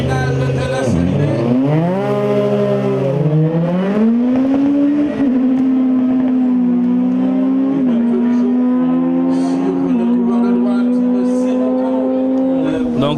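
Race car pulling away from the start line at a drag acceleration event, its engine screaming loud and close with rising, stepping pitch through gear changes, then holding a steady high drone.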